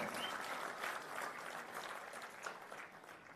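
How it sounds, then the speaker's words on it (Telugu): Loud, sustained applause from a large audience at a state minority welfare award ceremony attended by the Andhra Pradesh Chief Minister, many hands clapping in a continuous roar that slowly tapers over a few seconds. "గట్టిగా చప్పట్లు కొట్టి అందరూ ఈ స్థాయికి రావాలని కోరుకుందాం"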